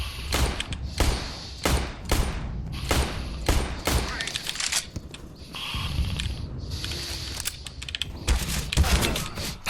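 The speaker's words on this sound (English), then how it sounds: "I'm throwing a grenade." In Counter-Strike: Global Offensive gameplay, a grenade is thrown and bursts amid rapid gunfire: repeated sharp shots and heavy thuds at varying distances, with a voice faintly in the mix.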